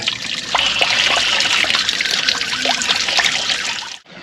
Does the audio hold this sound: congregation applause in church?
no